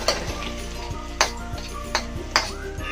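Garlic sizzling in reddish chicken oil in a pan, a soft steady fry with a few sharp clinks of a utensil against the pan.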